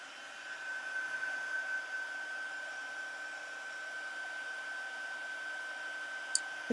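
A hair dryer on its highest heat setting blows on a wet embossed paper card with a steady, even whir. There are a couple of faint clicks at the very end.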